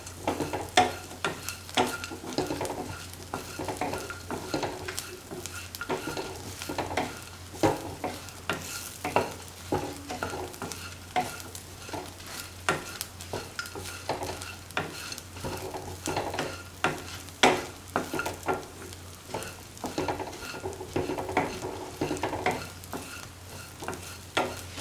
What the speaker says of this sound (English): Mix all the ingredients thoroughly in the mixture.